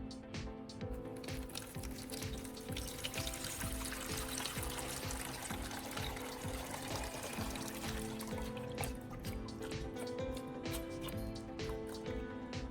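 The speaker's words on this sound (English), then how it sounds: "I'll then pour out the water." Water being poured out of an old battery after a hard shake, a steady trickling and splashing stream that runs continuously at close range with no talking.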